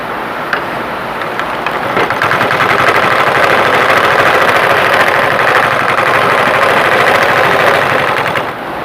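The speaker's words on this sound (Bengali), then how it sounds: "এবার এই দিকটাতে সেলাই করি, আমি দেখা যাক হয়েছে কিনা।" A domestic sewing machine stitching through fabric, a loud, fast, continuous mechanical clatter close up that runs steadily for several seconds without any talking.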